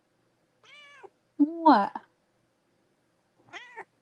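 A pet cat meows three times with harmonic cries spread across a few seconds, and a person speaks briefly between the calls.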